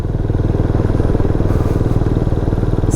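Benelli Imperiale 400 motorcycle engine running, a loud, close, steady thumping exhaust beat at low revs with a regular rapid pulse throughout and no voices.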